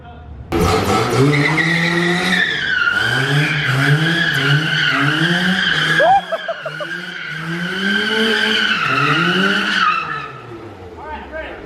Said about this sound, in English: about to lace it up with some practice donuts